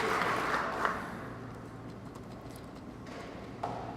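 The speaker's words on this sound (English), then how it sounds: "Crowd raise the roof here." Crowd at an All-Ireland ladies singles softball final applauding, the clapping loudest at first and then tapering into a softer murmur with a later small burst.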